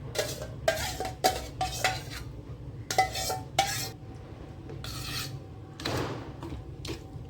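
A spoon stirs elephant yam pachadi into curd in a bowl, giving a run of scraping, clinking strokes against the sides with brief pauses between, close and fairly loud with no talking.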